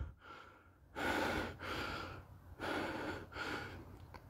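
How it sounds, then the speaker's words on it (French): Heavy, laboured breaths from someone climbing steeply uphill on a Morvan walk at sunrise, with slow, regular rasping inhales and exhales close to the microphone, about four long breaths with no talk. "Désolé pour les respirations mais j'en peux plus. Ça monte fort quoi."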